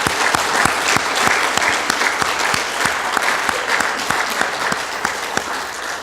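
A church congregation applauds together after a choir's hymn, steady dense clapping with sharp individual claps standing out, filling the whole stretch at a fairly loud, close level with no talk over it.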